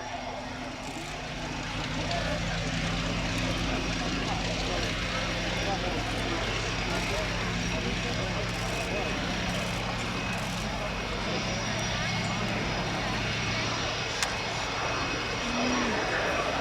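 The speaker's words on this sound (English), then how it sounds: "about to start its takeoff roll from the Royal Navy Historic Flight, another of the Yeovilton based units, the Fairey Swordfish Mk.1" A Fairey Swordfish Mk.1 biplane of the Royal Navy Historic Flight at the Yeovilton Air Day 2018, its piston engine droning steadily at a distance as it begins the takeoff roll, with a faint announcer voice over the public address.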